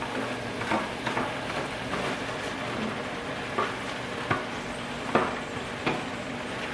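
Oven-roasted eggplant tipped into a sizzling oil-free sauce in a pan, with a dense steady frying hiss close up and a few sharp scrapes and knocks of a spoon against the pan.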